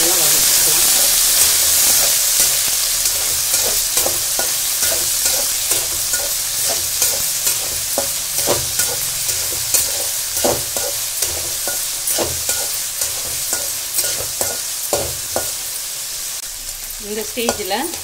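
Green sundakkai (turkey berries) sautéing in a pan, giving a loud, continuous close sizzle and hiss with rapid, rhythmic stirring scrapes and clicks of a spoon throughout.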